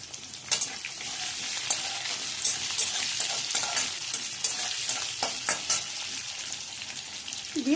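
Chopped medium onion hits hot oil already holding dried red chilies, giving a loud steady sizzle with stirring scrapes and spatula clicks throughout, no voices.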